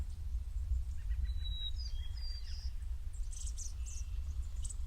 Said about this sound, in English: the background sound we are hearing, some Lincoln sparrow, is it? Or it might have been white-crowned